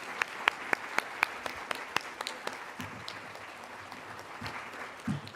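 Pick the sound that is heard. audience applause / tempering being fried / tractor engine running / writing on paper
audience applause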